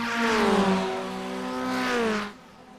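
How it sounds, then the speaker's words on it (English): Formula Ford FF1600 race car engines in the iRacing simulator, a loud sustained engine note with rising and falling pitch as the cars run close together, dropping away at the end, with no talk. "You literally can't hear a difference between their engine notes."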